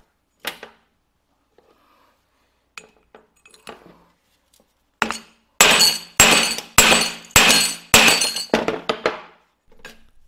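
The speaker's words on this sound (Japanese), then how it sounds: "しっかりと奥までですね、当たるまで打ち込みます" A hammer strikes a drive-train part of a Honda Benly 50/110/PRO scooter during a drive-train overhaul, tapping it fully into place. A few light taps are followed by a run of loud, sharp metallic blows in steady rhythm.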